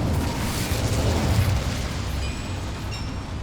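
An Incendio fire spell erupts in Hogwarts Legacy with a loud, roaring burst of flame that swells and sustains for a few seconds, a rumbling fiery blast with faint tonal chimes near the end.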